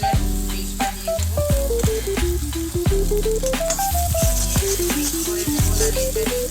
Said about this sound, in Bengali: পেঁয়াজগুলো অনেকটা ভাজা হয়ে গেছে, তারপরে আমি এখানে দিয়ে দেব আদা আর রসুনের পেস্টটা দিয়ে দেবো